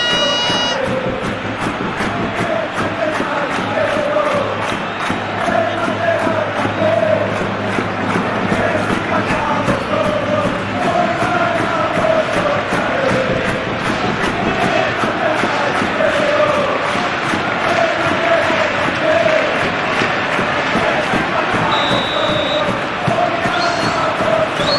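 A capacity stadium crowd roars steadily in the Football Life 2026 video game before a UEFA Champions League match between Real Madrid CF and Olympique Marseille, a loud, continuous wall of chanting and cheering with faint commentary beneath it.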